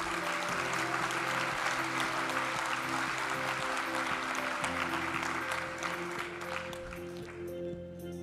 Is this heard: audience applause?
yes